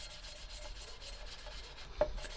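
Coarse lapping paste being worked on an engine valve seat of a Ford Transit MK4 engine, a soft, rhythmic gritty rubbing, close and quiet, with a brief knock near the end.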